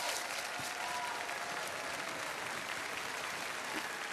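Sustained audience applause at an outdoor summer tour concert by a harbour lake festival, dense steady clapping from a crowd for the singer, fairly distant and even throughout with no talk.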